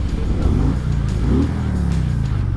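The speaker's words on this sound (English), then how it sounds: "Somebody wants to hear a little rev" A motorcycle engine revs up twice on a Memorial Day group ride over Hoover Dam, a loud close throaty rumble rising and falling over the idle.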